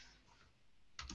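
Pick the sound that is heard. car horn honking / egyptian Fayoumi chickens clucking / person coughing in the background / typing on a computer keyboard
typing on a computer keyboard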